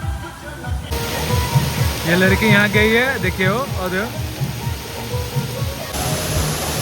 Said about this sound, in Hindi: ऊपर से पानी गिरता है ना, उसके लिए जा रही हूँ।